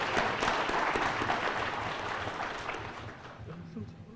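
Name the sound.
applause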